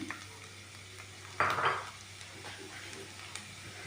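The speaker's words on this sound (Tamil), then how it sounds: "இந்த ஸ்கின்னை நான் அப்படியே இதில் போட்டு ஃப்ரை பண்ண போகிறேன்" Watermelon rind frying in ghee, a soft, steady sizzle with one brief, louder burst of hissing and scraping as it is stirred in the pan, then settling back to a quiet frying murmur.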